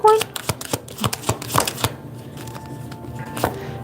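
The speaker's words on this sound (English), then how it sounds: "I saw this card at the bottom of the deck when I was shuffling" A deck of tarot cards riffled and shuffled up close, with quick crisp flutters and snaps that thin out into softer handling sounds.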